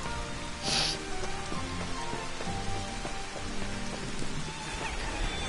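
Steady rainfall in the video game Final Fantasy 15 Platinum Demo, a soft continuous patter of drops heard alone with faint game sounds beneath.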